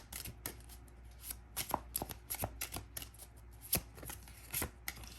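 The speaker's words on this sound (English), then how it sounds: "So we're going to do one more shuffle for all the decks." Tarot card decks being shuffled over and over, a steady run of crisp riffling bursts and soft card slaps, close and fairly quiet with no talking.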